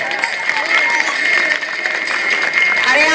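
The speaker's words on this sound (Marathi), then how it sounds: "अरे हा जोरदार टाळ्या" Applause and clapping from an audience at a school annual prize distribution ceremony, steady dense crowd noise throughout with a background music track and talk mixed in.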